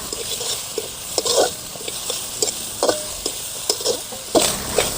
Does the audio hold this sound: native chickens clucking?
no